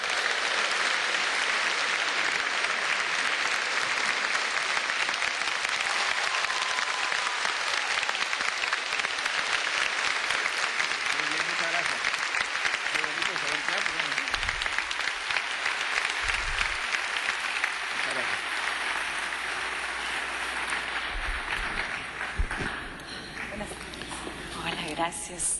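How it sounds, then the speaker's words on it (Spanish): Audience applause welcoming novelist Mario Vargas Llosa at a youth event, sustained loud clapping from a large crowd that tapers off near the end. "Démosle un fortísimo aplauso para recibir a don Mario Vargas Llosa."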